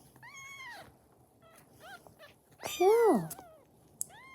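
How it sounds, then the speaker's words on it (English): A stray cat meows, with one soft call followed by a louder, drawn-out meow up close, while a person speaks a brief word quietly nearby. "very cute cat."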